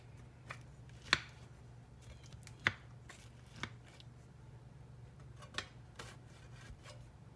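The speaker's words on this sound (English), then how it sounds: "I'm going to go ahead now and cut a little serving out of it" A knife cuts a serving from a baked tomato pie, producing several sharp, close crunches of crust at uneven intervals over a low steady hum.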